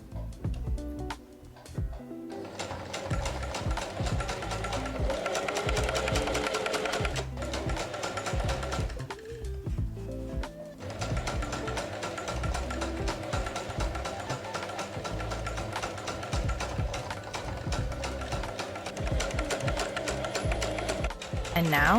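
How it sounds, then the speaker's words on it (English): A sewing machine straight stitches along a fabric edge in long runs, its close, rhythmic whirring broken by a couple of short pauses. "I don't trust my sewing skills enough for that yet, so I straight stitch first and then add the trim"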